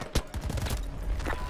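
Gunfire in the Battlefield 2042 beta, a brief burst of close, punchy shots early on followed by a sustained rumble of continued firing and low booms, with no talk.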